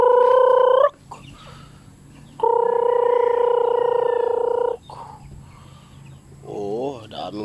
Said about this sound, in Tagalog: Oh, daming manok.